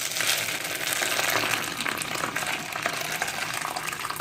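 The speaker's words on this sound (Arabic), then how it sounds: "وبعد كده بنبدأ نحط عليه مية" Water poured onto wheat grains to soak them for making milk balila, a steady close gushing splash that runs continuously for several seconds at fairly high volume.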